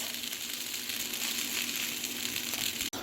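Fried rice with cabbage frying in a hot pan, giving a continuous dense sizzle that stays even and fairly loud throughout, ending with a single sharp tap.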